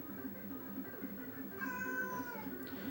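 A pet cat lets out a drawn-out meow partway through, fairly close and clear over a low, steady background hum, followed by a short tail-off near the end.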